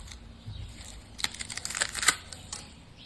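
Crispy fried achari namkeen snack crunching in a quiet room, a cluster of short sharp crackles and rustles that thickens in the middle and then thins out, close and faint.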